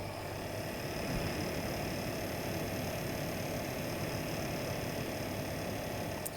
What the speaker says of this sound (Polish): jaki to jest odgłos tego wentylatora